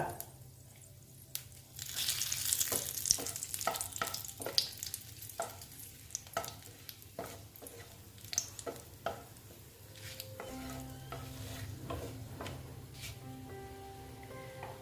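Dried chili, cinnamon and bay leaf fry in hot oil for ghugni, making a close, steady sizzle with crackles, stirring scrapes and a few sharp sputters.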